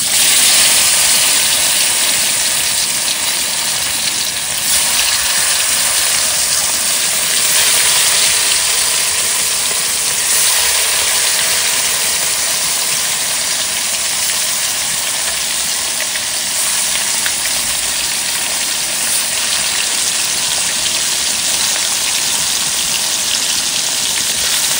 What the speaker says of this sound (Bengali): তেল গরম হয়েছে বন্ধুরা, এখন মাছ ভেজে নেবো।